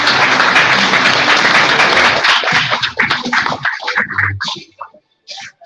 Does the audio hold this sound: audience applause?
yes